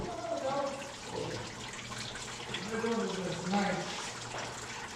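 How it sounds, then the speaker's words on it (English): Antifreeze draining out of a 2007 Silverado cooling system, a steady close splashing trickle of liquid running continuously, with a voice murmuring over it. "let's just collect all that nice antifreeze. Let it all dump out"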